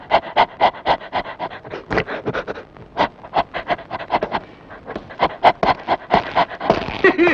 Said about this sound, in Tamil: நாய் நாய் நாய் வாசி